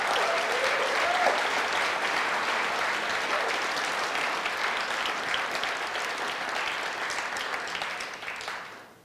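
A large audience at a university forum where a U.S. senator is speaking claps steadily, with dense, sustained applause filling the hall and slowly fading out at the end.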